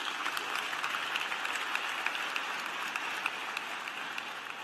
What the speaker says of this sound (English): Give her another round of applause,